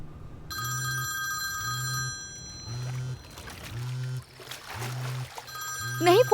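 A telephone rings in a Hindi-dubbed movie scene, with repeated evenly spaced double bursts of electronic ringing, fairly loud and close, under other faint background sounds.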